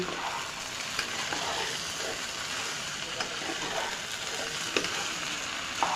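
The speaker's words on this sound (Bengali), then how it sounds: "চাল ও ডাল মশলার সাথে খুব ভালোভাবে ভেজে নিতে হবে।" Rice and lentils fry with spices for khichuri, a dense, steady sizzle and crackle with faint stirring scrapes and occasional soft knocks, close and even throughout.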